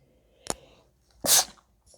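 A single person's sneeze: a short inhaled catch followed by a sharp, loud burst, then a faint trailing sound.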